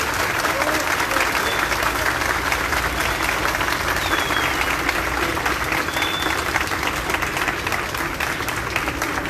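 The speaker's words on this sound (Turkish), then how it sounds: "Başkanlarımıza bir alkış alalım ama" Audience at a Turkish lawyers' gathering in Adana clapping in sustained, dense applause at steady loudness, with faint speech mixed in.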